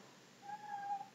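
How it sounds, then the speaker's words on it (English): A domestic cat lets out a single faint, drawn-out meow indoors, thin and tonal, rising gently before trailing off in an otherwise quiet room. "but this cat is meowing."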